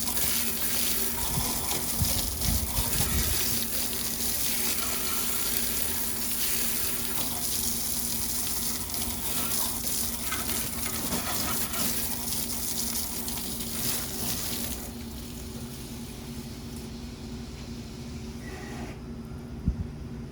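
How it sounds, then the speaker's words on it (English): A garden hose sprays water over a bicycle in one long, steady hiss and gush that runs for about fifteen seconds and then eases to a quieter flow. "Put it with the hose."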